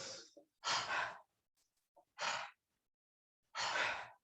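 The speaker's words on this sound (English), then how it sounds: "Inhale up, exhale down." Slow, deliberate breaths during a breathing exercise: long airy inhales and exhales alternating with short pauses and brief catches of breath, close to the mic and fairly quiet, with no talking.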